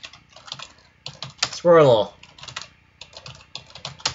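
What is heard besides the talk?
typing on a computer keyboard blindfolded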